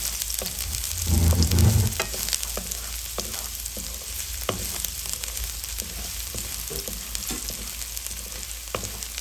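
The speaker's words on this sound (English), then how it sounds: "we'll add in our garlic and shallot in, and we will stir that around for maybe a few minutes until it's golden brown" Garlic and shallot frying in a pan while being stirred for fried rice, a steady loud sizzle with scraping stirs and a heavier clatter early on, no talking.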